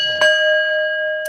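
A single bell strike rings out clearly and hangs in a long, steady, resonant decay, with a second strike just beginning at the end.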